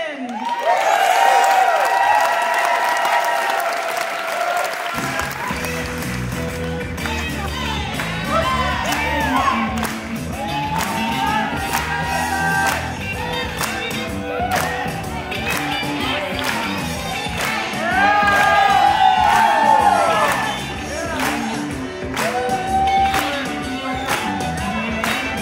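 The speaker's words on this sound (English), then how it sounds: "Please clap, please cheer." Audience at a blues dance competition final clapping, cheering and whooping for a dancer, starting after a few seconds of near silence and a voice, then sustained crowd noise with music underneath and swelling again near the end.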